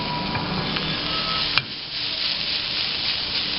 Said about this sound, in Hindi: और इसको मैं सौते कर रहा हूँ।